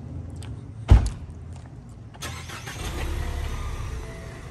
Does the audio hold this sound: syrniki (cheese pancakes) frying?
no